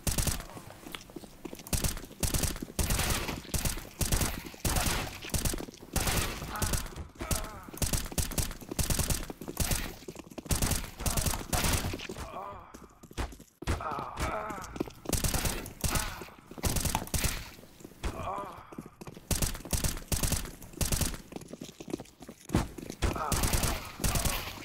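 In the video game CS:GO, rapid rifle gunfire cracks out in dense bursts and sustained volleys with short gaps, loud and close throughout the stretch.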